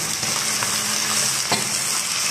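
Onion and garlic fry in a pan with a loud, continuous close-up sizzle and faint crackles from start to finish, with no talking.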